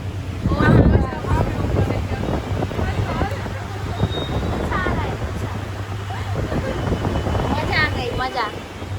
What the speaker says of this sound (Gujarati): તો જો અમે ઠંડીના પવન ખાવા ઉભા રહી ગયા છે